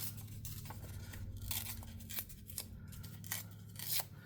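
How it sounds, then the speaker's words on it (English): Paper is torn by hand at a craft table while making an autumn journal, giving a series of faint rasping rips and crisp bursts over a low steady hum. "I'm gonna give this a tear. I think I'll tear the bottom too."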